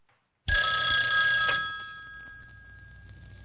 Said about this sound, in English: it always started with the ringing of the telephone